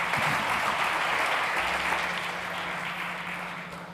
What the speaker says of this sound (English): Big applause for Julian.